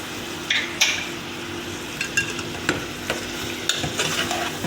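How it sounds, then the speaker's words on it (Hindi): Meat tipped into softened tomatoes in a cooking pot for bhuna gosht, followed by sizzling and a few clanks of a spoon against the pot, with irregular stirring scrapes over a steady fry. "अब मैं इसमें ये तमाम गोश्त डाल दूँगी।"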